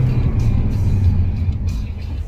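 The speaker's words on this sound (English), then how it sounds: "We'll go hard acceleration, followed by a threshold brake." Steady engine and road rumble inside a 2023 Toyota Prius Limited during hard acceleration toward a threshold brake, a continuous low drone heard from the cabin with no voices.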